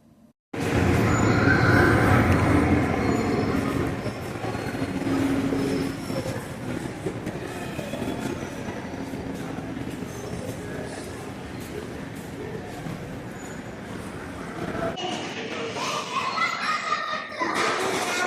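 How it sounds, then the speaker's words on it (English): Loud, continuous rumble of a busy Sydney train station, with rolling rail noise and a crowd murmuring throughout, briefly dipping before the roar returns. "Currently at the train station. It's very reasonably busy still."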